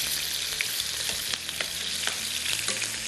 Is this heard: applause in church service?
no